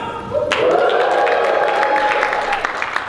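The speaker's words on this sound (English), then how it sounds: "That sounds like a crowd that isn't necessarily just waiting to get drinks" A conference audience at a talk on the future of search bursts into applause and cheering, the clapping starting abruptly and swelling into a steady crowd roar with whooping voices over it.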